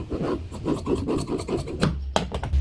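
Scissors cutting through the belt piece of blouse fabric, a series of rhythmic rasping snips close by, steady and fairly loud with no talk.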